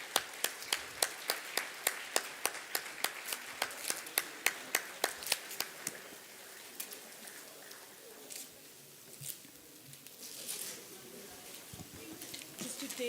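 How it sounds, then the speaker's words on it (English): Clapping at a book launch where dignitaries on stage unveil a book: crisp, evenly spaced claps for several seconds, then thinning into scattered claps and faint murmur. "A big round of applause,"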